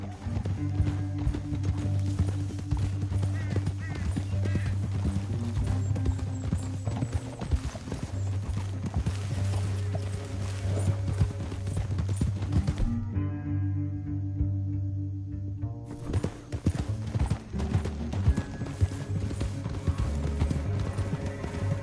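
Rapid hoofbeats of galloping horses in the video game Red Dead Redemption 2 drum steadily over a continuous musical score, briefly thinning out midway before the pounding resumes.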